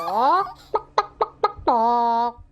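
A cartoon hen clucks in quick repeated bursts, a few sharp pulses between longer drawn-out squawking calls, close and loud.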